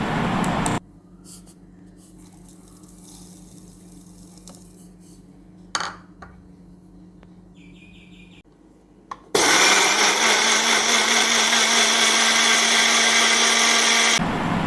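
A mixer grinder blending mango pieces with milk and sugar, running as a loud steady whir in two bursts, with a quieter stretch of kitchen clatter between them.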